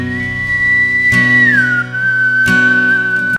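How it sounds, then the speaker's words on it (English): A clear whistled melody is heard up close over a song with a steady instrumental bed. It holds one pitch, slides down to a lower note and stays there, then stops suddenly. "you whistling into a microphone?"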